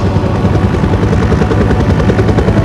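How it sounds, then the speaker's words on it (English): A helicopter hovers a few feet above a boat in a movie scene, its rotor thumping loud and close in a steady, pulsing roar that fills the whole moment with no voices. "there's a helicopter very clearly like a couple of feet above the boat that they're on"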